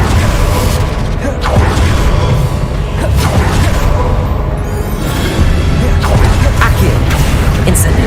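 Confringo fire spells burst in Hogwarts Legacy, loud booming blasts and whooshing impacts repeating amid rumbling game effects, with mechanical clatter and a voice speaking over the action.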